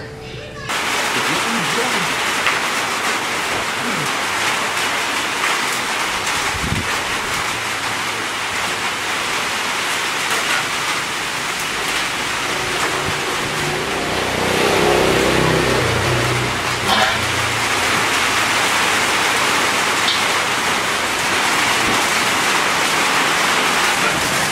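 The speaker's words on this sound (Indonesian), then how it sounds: "Akhirnya hujan juga." Heavy rain pours down in a dense, continuous roar that barely changes for the whole stretch, steady and loud with no talk over it.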